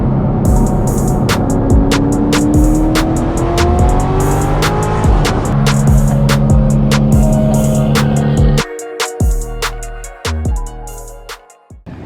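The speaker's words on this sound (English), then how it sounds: "we're gonna get a little bit of live action in the cars and burn some freaking rubber" A Trans Am being drifted, its engine revving hard and loud with rising and falling pitch and tire squeal from burning rubber, running continuously before easing off into choppier revs near the end.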